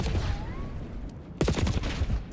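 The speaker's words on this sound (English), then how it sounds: "Bruce is shooting" Call of Duty gunfire in a competitive CDL match: a few scattered shots at first, then a sudden dense volley of rapid, loud shots from close by.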